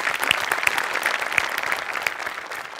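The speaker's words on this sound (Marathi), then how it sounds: "त्यामुळे सगळ्यांकरता एकदा टाळ्या" A studio audience at a Marathi comedy show's Sankranti celebration gives a burst of steady applause, dense and lively, with a few sharper claps standing out and faint whoops mixed in.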